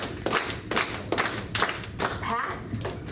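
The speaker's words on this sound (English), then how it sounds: "And clapping." Several distinct hand claps in a loose, steady rhythm, close by, during a music therapy session, with a faint voice murmuring between them.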